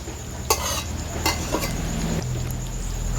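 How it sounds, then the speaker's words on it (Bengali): A spoon stirs fried potato and fried pumpkin together in a pan, giving a few sharp scraping strokes over a steady sizzle, close and without speech. "সব কিছু মিশিয়ে নিচ্ছি।"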